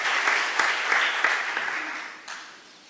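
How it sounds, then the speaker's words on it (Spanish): An audience claps for the musicians of a live orchestra performance, a dense, steady round of applause that holds strong, then tapers and fades toward the end. "A round of applause for our musicians."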